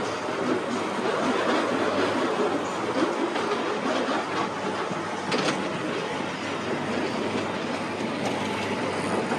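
An amusement park train at Kennywood rumbles past steadily with a continuous clattering roar of wheels on track, loud and close throughout, with a faint squeal near the middle.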